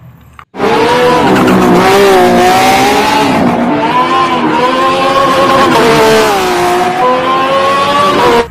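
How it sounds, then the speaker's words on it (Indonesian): Toy Lamborghini race car giving off a loud, close electronic engine roar with rising and falling revs and tire-squeal effects, starting abruptly after a brief quiet moment and running continuously. "Wah, ini mobil balap Lamborghini"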